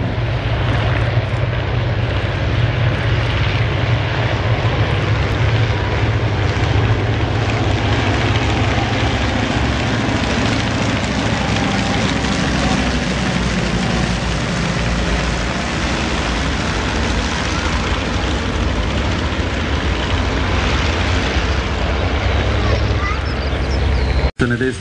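Heavy propeller engines of vintage Fokker airplanes flying past drone loudly and steadily throughout, a constant low roar with faint voices underneath.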